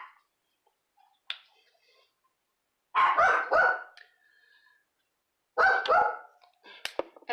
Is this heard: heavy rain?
no